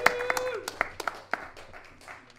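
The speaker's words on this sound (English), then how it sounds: "Big round of applause for the organisers," A small audience at a Windrush Culture 2021 event at Birmingham Museum and Gallery gives scattered applause, a handful of distinct, separate claps fading out while a voice speaks over them.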